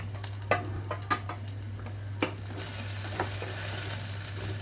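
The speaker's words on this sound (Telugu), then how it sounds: "ఇంకొక రెండు మూడు నిమిషాల పాటు ఇలా వేయించుకుంటున్నాను" Okra pieces frying in a pan, a soft, steady sizzle under a constant low hum, punctuated by a few sharp clicks of a utensil stirring, with no voices.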